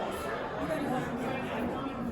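Steady murmur of many overlapping voices from a crowd of dinner guests at a vegan supper club event, a continuous indoor babble with no single voice standing out.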